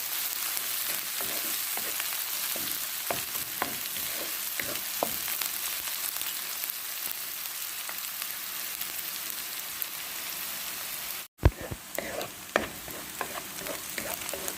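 Garlic and onion fry with ground beef in a pan, a steady close sizzle broken by occasional stirring clicks, with a brief drop and a sharp clatter near the end.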